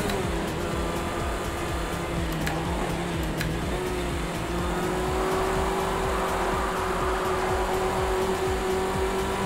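A car races in Project Cars 2, its engine droning loud and steady throughout with a continuous throaty rasp and light tire noise, and no talking.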